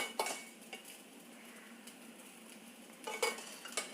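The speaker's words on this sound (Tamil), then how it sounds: "இதில் இந்த வடித்த சாதம் போட்டுடலாம்." Cooked rice is tipped into a pan with the stove switched off and stirred, giving scraping spoon-on-metal clinks and soft stirring rustles, busier at the start and again near the end.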